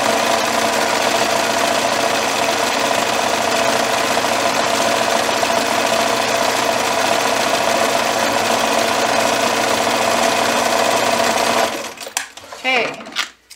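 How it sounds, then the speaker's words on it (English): A sewing machine runs a long, steady zigzag stitch on knit fabric for a twisted headband, a loud, continuous close whir that stops abruptly near the end, leaving a few faint handling sounds. "I just chain stitched them together to save a little bit of thread"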